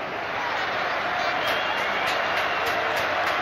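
Tranmere Rovers supporters applaud in a packed football stadium during a play-off final against Bolton Wanderers, producing a continuous wash of distant clapping and crowd noise with faint rhythmic pulses.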